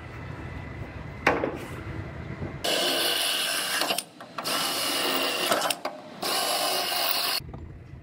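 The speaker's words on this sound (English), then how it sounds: "I'm going to drill out these 4 spot welds" Power drill boring out spot welds on a rear-ended Toyota's floor panel in an auto body shop, loud steady whirring bursts repeated three times with short pauses between, no talking.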